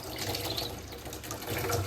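Water runs from a tap into a drum in a steady, moderately loud splashing rush with some gurgling, continuous throughout and no speech.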